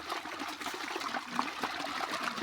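A continuous rush of water flowing from a three-inch pipe without a motor gurgles and splashes steadily, fairly quiet and unbroken, with no voices.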